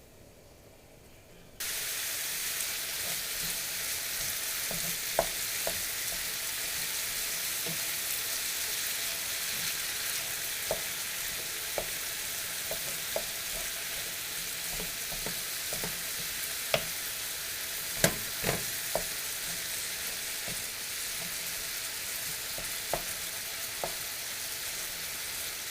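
Meat browns in a pan for shepherd's pie cooked on the trail, starting after a brief quiet moment as a steady, even sizzle that runs on with occasional small pops and spatters.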